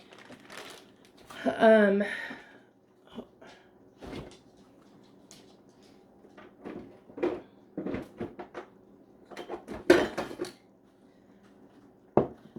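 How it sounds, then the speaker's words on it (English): Frozen vegetables dropped and shaken into a PC Quick Cooker pot, a rattling pour followed by scattered clicks and knocks of a spoon, close and intermittent, with a voice speaking near the start. "Get my frozen veggies in there."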